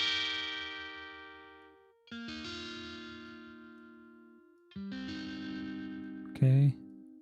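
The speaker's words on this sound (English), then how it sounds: "So we can add some distortion here." Distortion plugin effect on music: three sustained, gritty synth-like chords each decaying slowly, followed by a short loud buzzy burst at the end, no talking over it.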